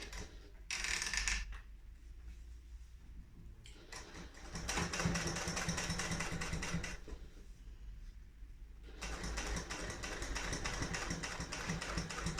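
Sewing machine stitching a seam on a fabric wristlet at a 4.5 stitch length, running in three steady whirring bursts separated by short pauses, close and clear, with no talk.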